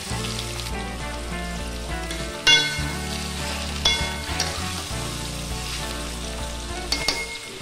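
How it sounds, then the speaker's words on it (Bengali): Potatoes and pointed gourd frying with onions and a split green chilli in a pan, a steady close sizzle with occasional stirring scrapes and knocks, no talk. "এবার ভালো করে এটাকে ভাজা ভাজা করবো।"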